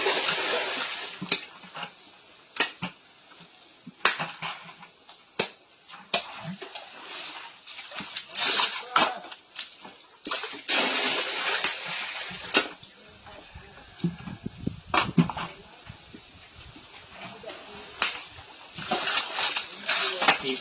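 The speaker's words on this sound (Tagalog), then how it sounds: "Paglilimas ng tubig sa kuprasan." Water being bailed out of a copra drying pit, with repeated splashes and sloshing scoops in an irregular rhythm, some louder and some softer, and occasional quiet stretches between them.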